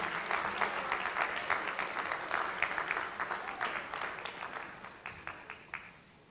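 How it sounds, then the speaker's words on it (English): Audience applause for an award recipient at the Excellence in Liberty and Justice Awards ceremony: a dense, steady wash of many clapping hands indoors that holds strongly, then thins into scattered claps and tapers off near the end. "let's have a well-deserved round of applause for Mr. Tieman Skipper Dippel"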